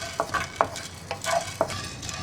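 Black pepper being stirred as it dry-roasts in a pan for horse gram chammanthi, with light scraping strokes of a spoon over a faint sizzle, a few distinct scrapes in quick succession, close and quiet.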